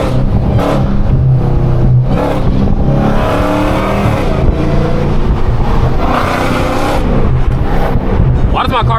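A Dodge Hellcat engine roars as the car accelerates hard, a loud, sustained rumbling growl heard from inside the cabin with rising and falling revs, while music plays over it.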